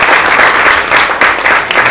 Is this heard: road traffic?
no